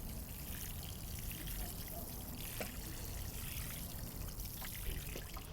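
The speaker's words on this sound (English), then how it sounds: "after planting, always you want to water the plant in. Give it a good, healthy dose of water." Water poured from close by onto a newly planted tomato in a sunny garden bed, a steady trickling splash that keeps going for the whole stretch at an even level, with no talking.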